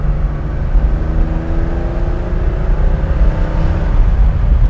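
A 1975 Porsche 911 2.7 Carrera MFI flat-six engine pulling hard through the gears on a road drive, a loud, continuous interior drone with rising and falling engine tones and no talking.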